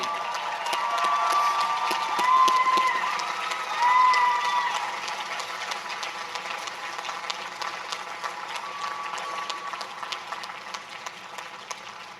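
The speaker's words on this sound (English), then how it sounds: "give a round of applause to your family members who celebrate with you here today" Applause from a university commencement crowd at the University of Mary Washington, a steady, dense clapping that swells twice early on and then settles into a long, even patter of hands, with no talk over it.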